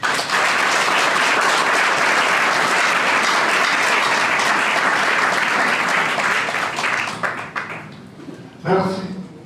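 Applause at a civil wedding ceremony: a loud, dense crowd clapping that holds steady for several seconds, then thins out and stops, followed by a voice speaking.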